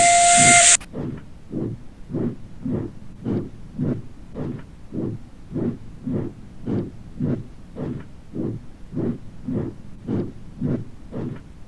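A steam locomotive gives one short, bright whistle peep as it pulls away, followed by an even run of rhythmic chuffs that repeat steadily at close range.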